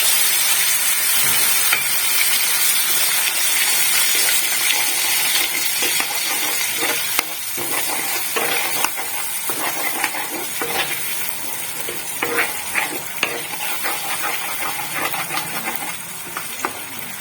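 A spice paste of tomato, onion, ginger, garlic and green chili fries in hot oil for prawn malai curry, a loud steady sizzle with scraping stirs and clinks that softens slightly partway through.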